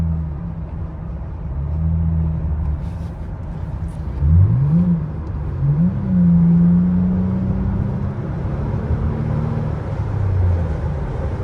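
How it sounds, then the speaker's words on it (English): Lexus ES350 engine idling steadily from the cabin, with a low rumble that rises in two short revs as the gas is tapped and then settles into a sustained higher hum before dropping back. "Depending on how I tap the gas, it can make a different sound."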